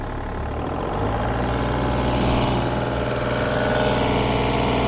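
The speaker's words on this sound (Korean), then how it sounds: "최고 RPM의 엔진 소리고요" A used 3-ton-class mini excavator's diesel engine runs loud and close at maximum RPM, a steady droning roar with no speech.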